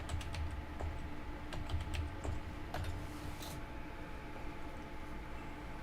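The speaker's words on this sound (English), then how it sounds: "type in base mesh" Steady typing on a computer keyboard, a run of quick light key clicks with brief pauses, close up over a constant low room hum; no voices.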